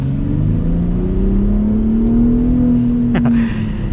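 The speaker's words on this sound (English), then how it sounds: "Gotta love that trombone exhaust." A Ford Raptor pickup truck's exhaust drones low and steady, its deep trombone-like rumble rising slightly in pitch as the engine pulls, with a brief higher squeak near the end.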